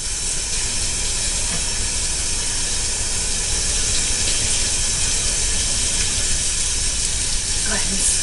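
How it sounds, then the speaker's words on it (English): Tap water running steadily into a sink during hand washing, a close, continuous hissing splash with faint voices in the background. "We're gonna make sure that we wash our hands first."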